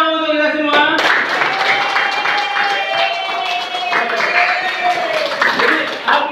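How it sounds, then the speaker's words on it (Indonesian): Clapping from a class group at the close of a Christian religious lesson, brisk handclaps running under a voice that keeps talking. "Tepuk tangan dong untuk kita semua"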